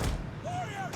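Ballistarii loose bolts in a Total War: Attila battle, a quick thump followed by short whistling tones, all within about a second.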